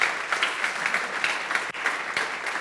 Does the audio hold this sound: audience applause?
yes